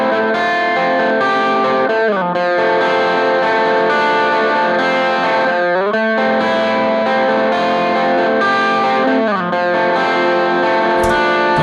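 An electric guitar plays loud, effected, distorted chords with chorus-like shimmer and some unpleasant noise around the 400 Hz range, sustained with a few sliding changes, up close and alone.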